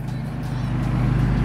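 A fifth-generation truck engine holds a steady high idle just after start-up, a close, constant low drone that rises slightly in level, with no talk.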